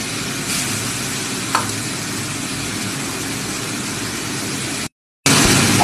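Garlic paste hits a hot pan and fries with a loud, steady sizzle, joined by a faint scrape of stirring, then a brief break before the sizzling resumes.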